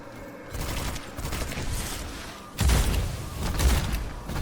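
Gunfire in the video game Witchfire comes as two loud bursts of rapid shots with booming impacts, close and dense.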